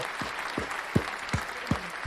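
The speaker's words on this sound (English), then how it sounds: "Clap it up for everybody donating," A handful of sharp, evenly spaced hand claps, about five in two seconds, in a steady rhythm, clapping for donors during a live happy hour stream.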